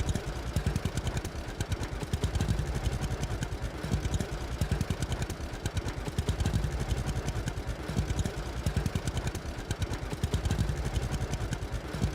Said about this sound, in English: Tractor sounds a little rough.